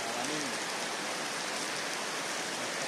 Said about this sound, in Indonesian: malah ini hujan turun lebat.